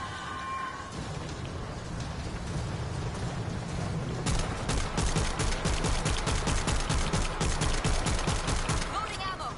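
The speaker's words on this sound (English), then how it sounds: "Let's go with this assault shotgun." Assault shotgun firing at zombies in a video game, rapid repeated loud blasts starting partway in over a steady rumbling background.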